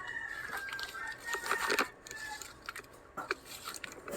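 A hen clucks and cackles nearby while laying an egg, with bursts of squawking calls over a hissy outdoor background.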